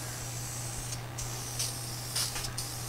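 Short hissing bursts of spray come from a can applying a light coat onto the replacement floor pans of a Ford Falcon, several quick passes that are fairly quiet, over a steady low hum.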